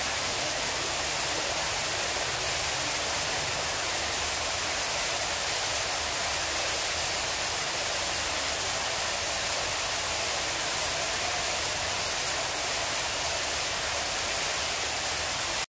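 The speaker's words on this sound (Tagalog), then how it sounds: "Pakinggan muna natin ang mga rumaragasang tubig." A waterfall's rushing water pours steadily at a scenic paradise-like spot, a dense, constant roar that fills the whole stretch without pause.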